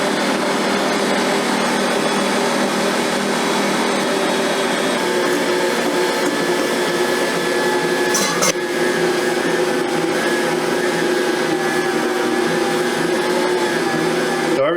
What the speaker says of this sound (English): So we're gonna leave it on number 1 speed and add our dries